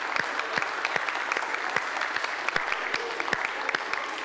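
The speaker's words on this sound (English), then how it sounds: "give yourselves a round of applause" Classroom group clapping at the end of a Simon Says game, a steady patter of many hands with sharp individual claps standing out, fairly close and continuous throughout.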